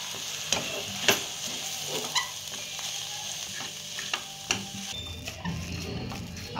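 Dabeli stuffing with tamarind chutney and Kashmiri red chili powder being stirred in a pan, a quiet sizzle under repeated light scrapes and taps of the spoon, with no talking.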